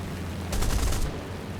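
Aircraft cannon fire from a Boomerang Mk I fighter in War Thunder: a short rapid burst of about half a second, moderately loud over a steady engine drone.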